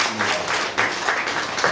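Applause from a conference audience at an annual general meeting, a steady dense patter of clapping filling the room for under two seconds with no voices over it.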